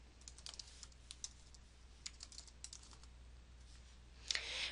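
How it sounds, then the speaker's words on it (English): Close, quiet typing on a computer keyboard, irregular light key clicks over a low steady hum, ending in a slightly louder cluster of taps, with no voices. "To begin, type your name in the box."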